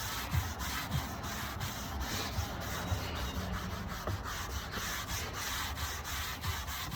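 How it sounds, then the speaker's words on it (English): A magic eraser scrubs a surface with continuous, close, dry rubbing. The sound is a steady, even abrasive hiss with faint rhythmic strokes and no speech. "I love magic erasers."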